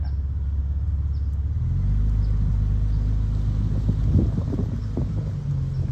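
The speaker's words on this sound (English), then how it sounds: "Right now we are shooting this inside my car." Low engine rumble and road noise fill the cabin from inside a moving car, a deep steady drone that thickens and shifts as it gains speed.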